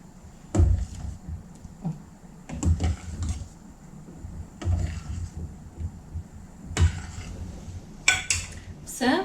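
A spoon or whisk clatters and scrapes against a pot while vegetable soup-sauce is stirred quickly, giving a series of irregular metallic knocks and clinks close by, with a voice speaking briefly.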